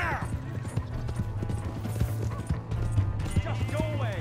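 Horse hooves clip-clop steadily in Red Dead Redemption 2, with an occasional whinny, running beneath ongoing talk from start to finish.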